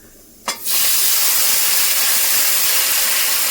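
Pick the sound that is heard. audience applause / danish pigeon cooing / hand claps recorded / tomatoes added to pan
tomatoes added to pan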